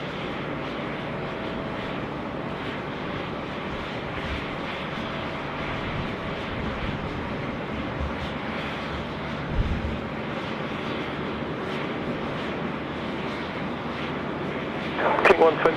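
A plane lands on runway 34 left at Sydney Airport, its engines a steady broad roar heard from a distance, with a brief louder swell near the end and voices murmuring faintly underneath.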